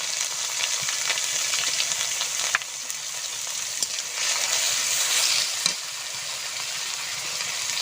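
Panch phoron, cumin, ginger paste and turmeric sizzle steadily in hot oil, a dense continuous crackle with a few sharper pops and small surges as the spices are moved about.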